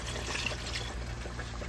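A cup of water being poured while a Ghanaian dish is cooked, a continuous close trickling pour with a low steady hum underneath, with no speech.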